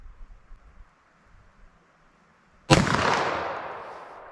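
A single sharp gunshot from a 30-year-old Winchester Silvertip 10mm round, loud and close, bursting out after near-silence and decaying over the following seconds.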